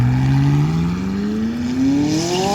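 A McLaren 600LT Spider with a twin-turbocharged engine accelerates hard, its engine note climbing steadily in pitch as it revs up, loud and close throughout with no talking.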